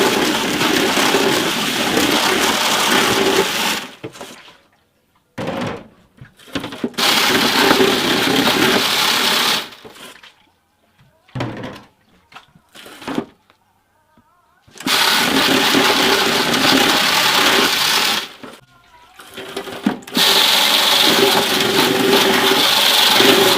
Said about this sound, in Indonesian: langsung kita sikat ke mesin ini, mesin sikat bagian dalam